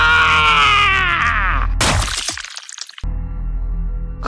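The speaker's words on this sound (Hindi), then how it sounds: "मोहन ने भी आखिरी बार जोरदार चीख लगाई" A loud, sustained scream sound effect in a Hindi horror story wails for close to two seconds, then cuts into a harsh crashing burst and brief silence before a low background returns.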